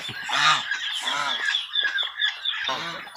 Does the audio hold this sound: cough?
no